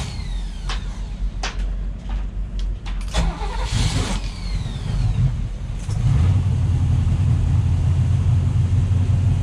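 Starboard engine of a Luhrs 28 boat cranking over and catching, settling into a steady low rumbling idle, close and loud with no talk.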